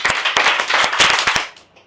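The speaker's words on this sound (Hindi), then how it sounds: "ताली ऐसे बजानी है, 4 बार बजानी है और जल्दी जल्दी" A classroom of students claps rapidly in unison, a burst of about nine sharp, close hand claps packed into under two seconds, loud and echoing, with no talk over it.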